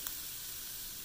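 Tofu dropped into a pot of hot lemongrass and garlic gives a steady, close, fairly loud hissing sizzle across the short moment, with no talking.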